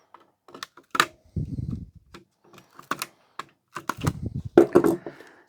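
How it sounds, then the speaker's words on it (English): Wires being snipped on an old fluorescent light fitting during scrapping, a series of sharp cutter clicks and snaps mixed with duller knocks and rustling handling of the metal fixture, fairly close. "And if we snip these wires"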